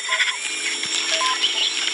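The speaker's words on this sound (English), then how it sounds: "oh crap, I'm gonna have to drill again." The surgical drill in the video game Surgeon Simulator whines in a high, steady electronic buzz with small ticking clicks, running continuously at close range with no talk over it.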